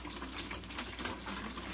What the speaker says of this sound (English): I'm going to have 1 gallon of water. Put this into your keg like this.